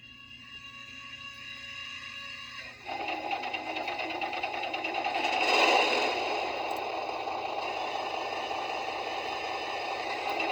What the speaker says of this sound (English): let's go back down to the locomotive and go ahead and start it up